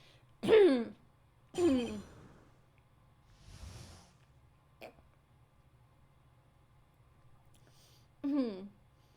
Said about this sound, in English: Don't mind me just clearing my throat.